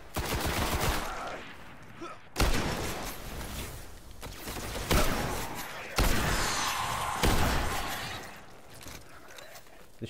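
Shotgun blasts in the Destiny video game boom out as loud, sharp reports, about five of them spaced a couple of seconds apart amid continuous in-game combat noise.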